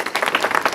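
Brief burst of audience applause at a scholarship cheque presentation ceremony for chiefs, a quick run of claps lasting under a second with no talk.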